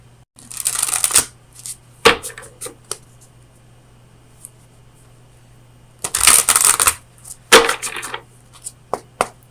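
Oracle cards from the Oracle of Visions deck being shuffled for a tarot reading, heard close up as two loud bursts of riffling and slapping with short taps and pauses between them, with no voice.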